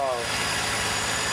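A Holden VN Commodore V6 with a new turbo setup idles on its first start-up, a steady, smooth, close engine drone with an even low throb.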